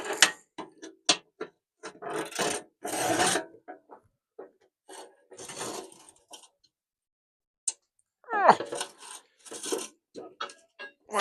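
Someone works a wrench on the 5/8 bolts holding the seat of a Farmall C tractor, making short, close rasping and ratcheting strokes in irregular bursts with brief pauses between them.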